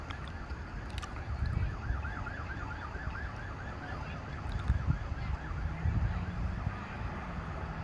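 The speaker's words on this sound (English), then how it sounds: "You can hear the police coming at like 90 miles an hour." A police siren warbles rapidly in the distance, rising and falling over a steady background rumble near an accident scene, while faint low thumps and noise surge intermittently.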